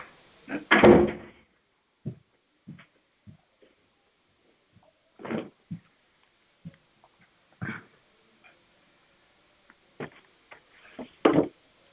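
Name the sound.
door being shut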